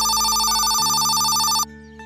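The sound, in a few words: telephone ringing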